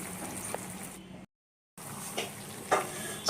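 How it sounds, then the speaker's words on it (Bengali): Spinach curry with fried eggplant gets stirred in a pan, giving a soft sizzle with occasional scraping knocks, briefly cut by a moment of silence. "সবার শেষে ভেজে রাখা বেগুনটা মিশিয়ে দিলাম হালকা নাড়াচাড়া করে"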